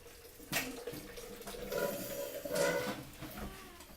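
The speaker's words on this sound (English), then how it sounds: "you're going to pour it into your container" Steamed hot water is poured into a container while making tea, a faint splashing trickle that swells and eases over a few seconds with small clinks, fairly quiet and without talking.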